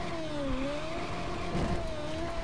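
Engine of the Mugello Farina Duo F1 racer in the game Just Cause 3, a high, steady whine that rises and falls slightly as the car accelerates, loud and close with no talk.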